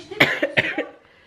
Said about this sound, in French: il a mal à la gorge, puis il tousse lui aussi